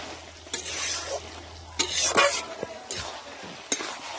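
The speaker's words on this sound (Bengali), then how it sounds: "এইভাবে একটু ঘেটে দেবো মাথাটাকে" A fish head being stirred and mashed into cooking Malabar spinach and vegetables in a pan, giving scraping, squelching strokes in several loud bursts over a soft sizzle.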